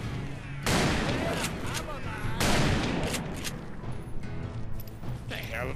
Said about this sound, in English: The hell of a shot.